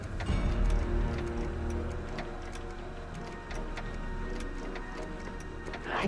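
A clock ticks steadily with regular sharp ticks in the Back to the Future video game, set over a low background hum and faint game ambience.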